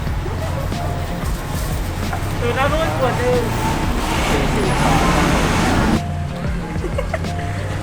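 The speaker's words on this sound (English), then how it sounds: "It's right by a main road here, so it's proper loud." Loud traffic roars steadily from a main road in Bangkok's Chinatown, with passing vehicles surging close by and a voice talking over the din.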